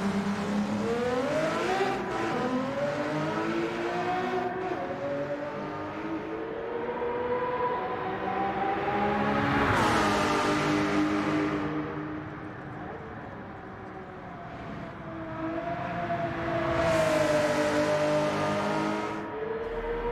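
A Porsche 917K race car in Gran Turismo 7 laps Spa, its engine wailing and rising through gears with sharp upshifts and passing surges, loud and continuous with no talk.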